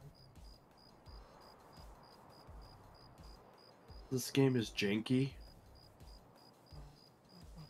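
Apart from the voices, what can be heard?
crickets chirping in Escape from Tarkov video game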